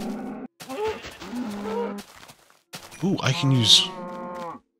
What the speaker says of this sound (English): Oh, cows. How did I not know you were there?